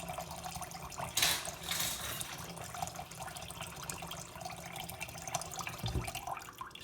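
Cold tap water runs steadily into a sink while rinsing food for a rice cooker potato salad, a soft continuous splashing hiss with a couple of louder bursts of flow, fairly close and without talk.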